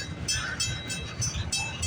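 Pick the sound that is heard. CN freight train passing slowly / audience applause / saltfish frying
CN freight train passing slowly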